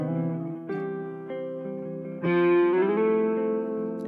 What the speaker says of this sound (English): But I can also slide into them